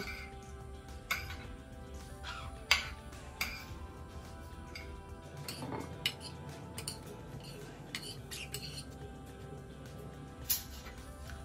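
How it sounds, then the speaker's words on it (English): A spoon scrapes and clinks around a bowl while a sauce is stirred with pico de gallo juice. Light, irregular taps and clicks come from close by, with a few brighter chinks. "We're going to mix it very well."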